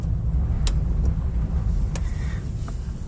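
A van in a hard left turn rumbles with steady low engine and road noise close by, with a few brief higher clicks or knocks scattered over the drone and no talking.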